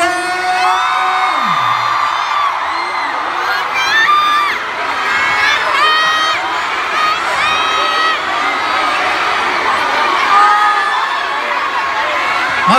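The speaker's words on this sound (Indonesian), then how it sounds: "Tepuk tangan yang meriah." A crowd of fans at a GFRIEND fan meeting in Jakarta cheers and screams loudly, high excited shouts and whoops layered in a sustained roar from start to finish, with a brief voice early on.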